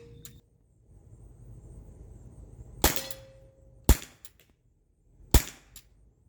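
Umarex Heckler and Koch VP9 pistol with a paintball spring fired three times, sharp snapping cracks spaced over a few seconds, close and loud above a low background hum.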